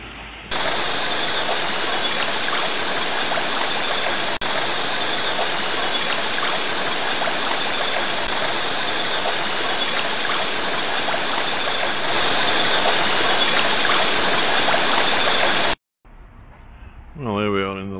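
Water pours over a weir on the River Weaver near Nantwich, making a loud, continuous close-up roar and gush. It holds steady for about sixteen seconds before cutting to a different, quieter sound.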